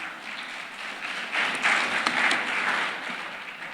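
An audience at a business conference applauds, with soft, dense clapping that swells in the middle and then tapers, heard from a moderate distance.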